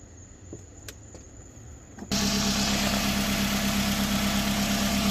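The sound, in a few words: 2009 Toyota Camry SE engine idling after oil change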